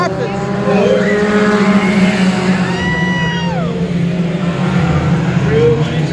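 Mini trucks race on a dirt track at night, their engines snarling and sweeping up and down in pitch as they pass, loud and continuous beneath an announcer's commentary.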